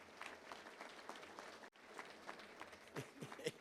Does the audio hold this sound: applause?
yes